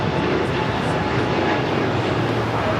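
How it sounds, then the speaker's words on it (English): Breeze Airways Airbus A220-300 taking off at Los Angeles International Airport, a steady broadband jet engine roar holding at a constant level for the whole stretch, no clear peaks or fades. "This is Breeze Airways 535 taking off to Richmond, Virginia on the A22300."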